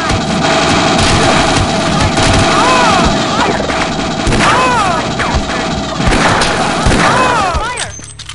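Continuous loud gunfire and booming blasts in the video game Half-Life: Azure Sheep, rapid overlapping shots throughout with shouted voices mixed in.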